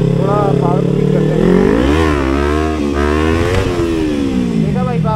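A Kawasaki Ninja 300 motorcycle engine revs hard up and down in several loud, close swells with a rising and falling whine, while someone talks over it.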